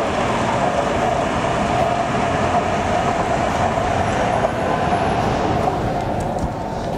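A loud, continuous rumble of a train at a station fills the scene, steady throughout, with a faint high squeal appearing briefly partway through.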